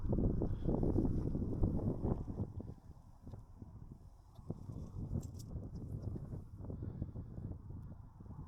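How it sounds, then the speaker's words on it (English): Strong gusting wind buffets a microphone outdoors in Scotland on a blustery day of intermittent rain, a loud, continuous low rumble that swells and eases without pause and with no voices. "Oh, it's getting really windy and the rain keeps coming on and off"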